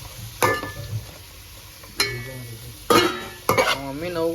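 Onions frying in a pan for chicken curry give a low sizzle, broken by a few sharp stirring scrapes and clinks from a spoon against the pan, close by.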